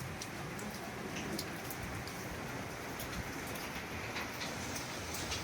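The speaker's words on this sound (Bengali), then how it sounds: "দেখো পুরো বৃষ্টি পড়ছে কেরম" Steady rain pours outside a vehicle shop on a cloudy day, a dense continuous hiss of drops hitting surfaces with no talk, constant and fairly close throughout.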